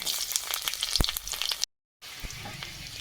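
Chopped garlic and panch phoron hit hot oil just after dry red chillies were fried, giving a steady close sizzle with small crackles, a brief break of silence, then the frying hiss resumes.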